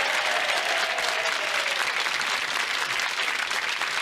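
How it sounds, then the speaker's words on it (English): Dense, steady studio audience applause at a BBC National Lottery Jetset game show, loud and sustained for the full stretch with a faint whoop riding over the clapping. "Big round of applause for Mark Kenyon, everybody. Give him a round of applause."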